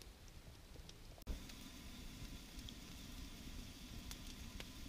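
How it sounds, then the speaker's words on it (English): Potatoes with yellow pepper, onion and garlic frying in butter over an outdoor campfire give a steady, crackly sizzle, fairly close and continuous, with a brief sharp knock near the start and no talking. "Listen to that sizzle."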